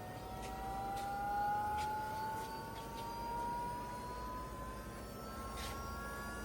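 A turbocharged truck engine on a dyno drones steadily while a thin turbo whistle rises slowly in pitch, heard without talk.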